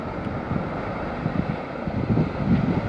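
Wind buffets the microphone on the rocky Atlantic coast near the Cliffs of Moher, a steady low roar with gusty swells throughout and no voices.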